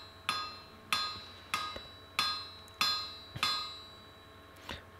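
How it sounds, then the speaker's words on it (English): A blacksmith's hammer with a rounded face strikes hot iron, dressing it to half-inch thickness while forging a replica of the Sutton Hoo chain's suspension ring. Six sharp ringing blows land at a steady pace, then a softer seventh follows, close and alone. "coming down on them with the rounded face of the hammer"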